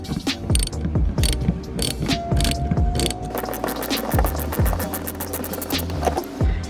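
A ratchet clicks steadily while a T25 screw is backed out of the roof antenna on a BMW F30, with loud, close, repeated pawl clatter running throughout.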